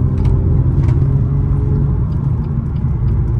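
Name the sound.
BMW M2 Competition car accelerating and cornering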